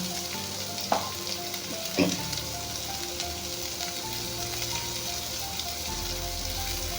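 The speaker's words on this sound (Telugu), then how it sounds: "పచ్చిమిరపకాయలు ఉల్లిపాయలు వేసి బాగా ఫ్రై చేసుకున్నాము" Green chillies and onions fry in hot oil with a constant bright sizzle, while two sharp clinks of a spoon against the pan mark stirring as turmeric and salt go in.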